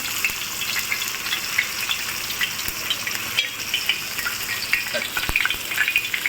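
Finely chopped onion sautéing in a pan for crab curry, a steady crackling sizzle with scattered pops and a couple of sharp clinks of a utensil against the pan.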